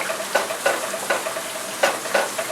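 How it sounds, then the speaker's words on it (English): Onions sauteing in a pan while pork wontons fry nearby, giving a steady close sizzle with a few louder stirring scrapes and spatters at irregular intervals. "and our onions are sauteing"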